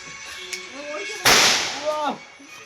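During Diwali celebrations, a firecracker goes off with one sharp, loud bang close by, with people talking just before and after it.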